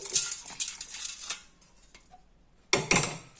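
Crunchy fried boondi is tipped into a bowl of spicy Kerala-style mixture, rattling and pattering close by in a busy burst, then going quiet before another short clattering pour.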